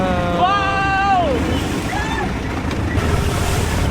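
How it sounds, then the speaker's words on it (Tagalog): A banana boat rides big river waves on the Chao Phraya River in Bangkok, with a steady roar of wind and rushing water throughout and excited voices calling out over it. "malalaki pala yung alon dito sa ilog"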